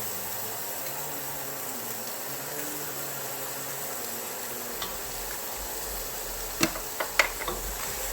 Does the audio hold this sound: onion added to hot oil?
yes